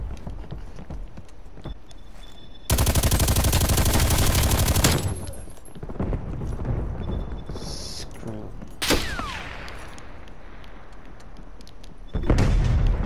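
Video game weapon fire comes in bursts. A long, loud rapid stream cuts in, followed by a few shorter sharp bursts and clanks, with a louder burst returning at the end.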